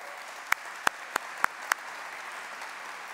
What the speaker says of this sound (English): Hold your applause for a moment.